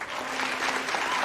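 A crowd applauding in the Charmed TV series, steady dense clapping that fills the whole brief moment at a fairly loud, even level.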